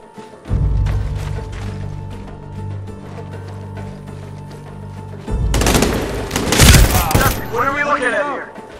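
Gunfire in the PC shooter Medal of Honor: Warfighter, with sustained automatic bursts, then a louder close barrage of rapid shots, followed by shouted voices near the end.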